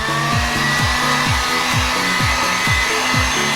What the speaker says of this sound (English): So next I'm gonna take a heat gun